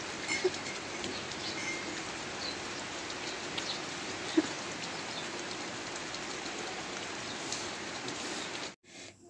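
Steady rain hisses down continuously on a Nepali hill village, a dense wash of patter with occasional louder drops, before cutting off abruptly near the end.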